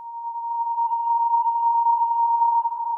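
A pure, steady sine tone from a wavetable synth in Ableton Live, held unwavering for about three seconds at constant loudness, with a slightly noisier edge creeping in near the end.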